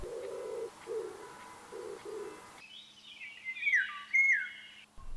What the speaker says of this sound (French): La tourterelle des bois et le pigeon ramier chantent dès le lever du soleil.